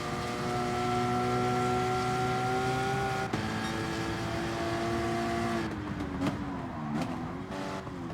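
A Mustang race car's engine in GT Sport holds a steady high rev, shifts up sharply partway through, then wavers as the throttle lifts and reapplies through a corner.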